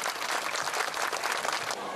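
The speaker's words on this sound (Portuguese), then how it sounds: "uma salva de palmas para ele." A crowd applauds a bishop at a Catholic parish gathering of Nossa Senhora da Conceição in Brazil, a continuous, fairly faint patter of many hands clapping that fills the whole moment without speech.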